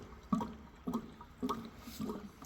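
Water is poured into the cooling system of a BMW E32 car in a few short, evenly spaced gurgling splashes, faint and close, with no talk.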